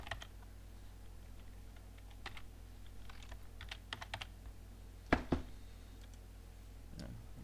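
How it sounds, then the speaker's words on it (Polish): Quiet, close keystrokes on a computer keyboard as a name is typed, irregular bursts of clicks with a couple of louder taps and brief pauses, over a low steady hum. "No więc wpisujemy jakąś nazwę."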